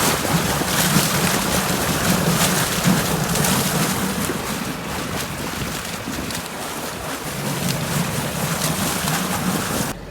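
Exhaust from an idling diesel truck bubbles up through water, a continuous churning, rushing gurgle with a low rumble beneath and wind buffeting the microphone, loud and steady throughout.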